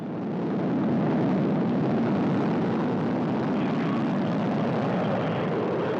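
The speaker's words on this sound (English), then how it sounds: "You can see the engines firing now, going up to flight speed and liftoff." Soyuz rocket engines firing at liftoff from Baikonur, Kazakhstan, a steady loud broadband roar that swells in the first second and then holds as a continuous rumble throughout.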